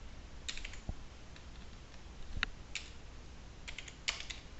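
Keys clicking on a computer keyboard as a search word is typed into a website search box, a few quick sparse keystrokes over a low steady room hum, close and fairly quiet, with no talking.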